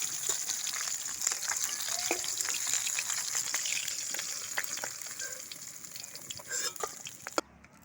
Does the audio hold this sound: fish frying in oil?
yes